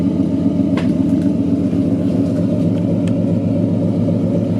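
A Ford Mustang S197 V6 idles in park, a loud, steady low rumble that holds even throughout, with a few faint clicks on top.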